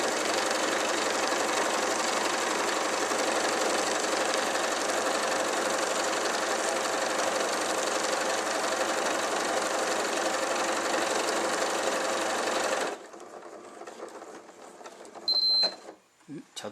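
An Elna Lotus sewing machine runs steadily for about thirteen seconds while stitching a grid pattern, making a loud, even motor whir. It stops abruptly, leaving near quiet broken by a couple of small clicks.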